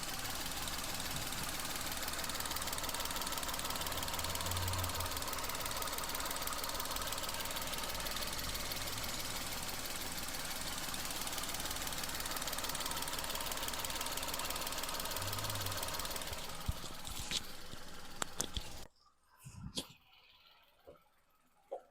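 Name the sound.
small car engine idling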